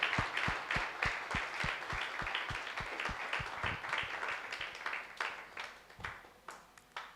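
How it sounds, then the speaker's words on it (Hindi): A church congregation claps together in a burst of applause, with sharp, fairly regular claps that start dense and then thin out and grow scattered toward the end. The sound is moderately distant and there is no speech. "आइए हम जोरदार तालियों के साथ उसको धन्यवाद दें"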